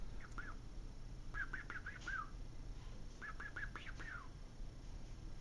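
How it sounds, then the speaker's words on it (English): Small bird giving high, thin chirps in two short bursts of rapid repeated notes, close by over a steady low background hum. "Hi, little birdie."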